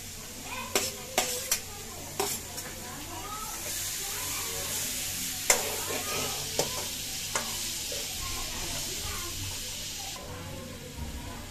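Onions and chilies frying in a pan, a steady close sizzle and hiss with intermittent sharp utensil taps and scrapes as the mix is stirred, and faint voices in the background.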